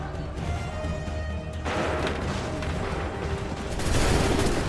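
Dense volley of musket gunfire in Assassin's Creed III, a continuous rattling crackle of overlapping shots that swells louder toward the end, with no speech over it.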